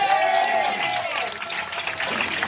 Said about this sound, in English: Y'all give Daniel a round of applause